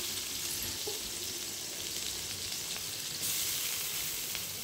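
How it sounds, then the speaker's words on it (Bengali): Sliced onions sizzle in hot oil in a wok, a continuous close, bright crackling hiss with a small surge partway through as they are stirred; no one speaks. "কড়াইতে দিয়ে দিলাম তেল গরম করে তার মধ্যে পেঁয়াজ দিয়ে দিচ্ছি।"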